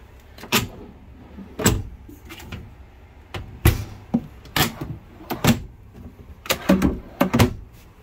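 The doors of a four-door three-way fridge in a 2021 Entegra Vision 27A RV open and shut over and over, giving sharp, close thumps and clicks in an uneven rhythm with brief quiet gaps between them.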